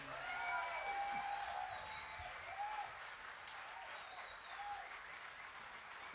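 A concert audience at the Newport Jazz Festival applauds in a sustained wash of clapping and crowd noise, moderately distant, with a few faint cheers and whistles.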